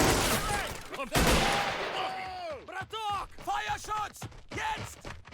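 Gunfire in the Men of War army battle simulator game, with a dense burst of shots at the start that falls away beneath a man's excited, exclamatory voice.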